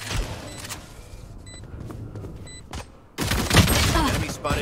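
Pistol gunfire in a tactical shooter match with Reyna and a planted spike: faint scattered game effects give way to a loud, dense burst of rapid shots in the final second and a half.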